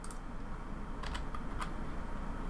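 Computer keyboard keys are tapped a few times in quick succession, light clicks over a steady background hum, with no talk.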